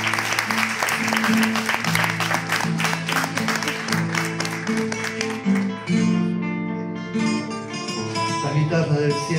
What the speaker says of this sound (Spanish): Fuerte el aplauso para Luciano